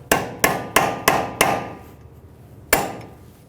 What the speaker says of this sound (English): Using a hammer and a punch, we're going to stake the axle nut.